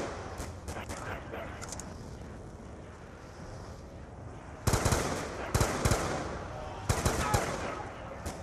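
Upgraded, pack-a-punched gun firing in Die Rise zombies video game, short rapid bursts of automatic fire over a constant droning game background, with a speaker talking underneath.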